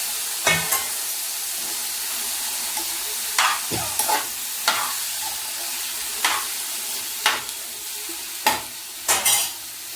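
Tomato pieces sizzling in a hot pan for a brinjal tomato pickle, with steady frying hiss broken by about ten sharp scrapes and clatters of a spoon stirring, close up and with no talking.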